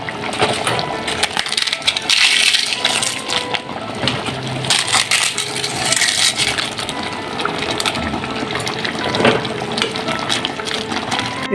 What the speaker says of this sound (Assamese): শুকান পাপৰকেইখন ভাঙি দিম।